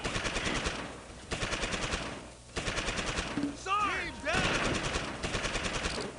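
Rapid bursts of automatic gunfire in the Close Combat: Invasion Normandy war game, loud repeating volleys with short pauses and a brief whooshing rise in the middle, no talk heard.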